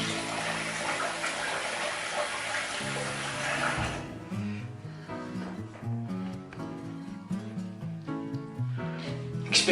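Water runs steadily from a tap for the first few seconds of rinsing after a shave, then stops, followed by scattered clinks and handling sounds of shaving gear close by.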